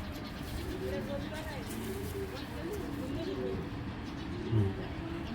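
Giribaz pigeons coo in soft, repeated rolling calls, several overlapping notes recurring every second or so over a low, steady background rumble and murmur, close by.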